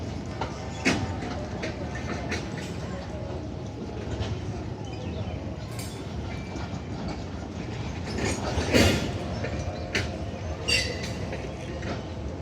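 A long cargo train, number 501, rolls slowly out of a station toward the yard, giving a steady low rumble of wheels with scattered clanks and a few sharp metallic squeals, heard from nearby.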